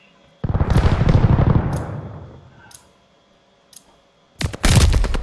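Blasts and rapid gunfire from an enemy strafing run in a first-person shooter match, a heavy rumbling explosion barrage that fades out, a few sharp cracks, then another loud burst of detonations.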